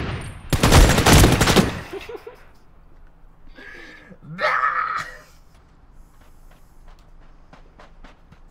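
Rapid automatic gunfire bursts in the online shooter game Ring of Elysium, loud and close for about a second, followed by scattered quieter game effects and a later louder sound, with excited voices of players calling out.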